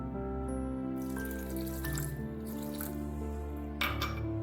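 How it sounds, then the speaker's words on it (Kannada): Water being poured into a mixer jar holding carrot pieces for grinding, a steady close splashing pour over a few seconds with a brief louder gush near the end. "ಸ್ವಲ್ಪ ನೀರು ಹಾಕ್ತಾ ಇದ್ದೀನಿ ನಾನು."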